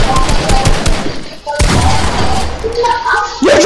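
Gunfire from a shooting video game rattles in dense, loud bursts with a brief gap midway, mixed with game effects and some voice in the background.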